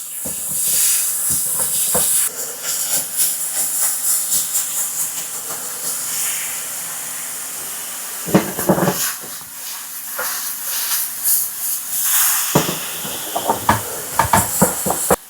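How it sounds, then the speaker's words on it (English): Ground turkey hisses steadily in a hot pan, a loud, broad sizzle that holds throughout with occasional sharper crackles and pops rising above it. "let's go ahead and grab our 6 ounces of ground turkey. Toss that right in the pan."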